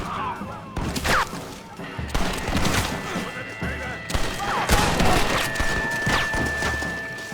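Gunfire in Red Dead Redemption on Xbox 360, a chaotic burst of cracking shots and thuds during a sniper ambush, dense and loud, mixed with shouted voices and game sounds.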